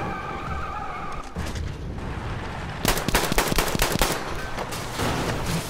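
Battlefield 1 game audio: a vehicle slides with a muffled rumble, then sharp bursts of rapid gunfire crackle loudly for over a second before easing back into the rumble.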